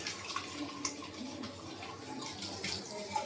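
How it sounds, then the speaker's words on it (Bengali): Water runs steadily from a tap into a sink while a tiffin box is washed, with faint clinks and splashes against a soft, continuous flow. "আমি বড়ের টিফিন বক্সটা ধুয়ে নেব"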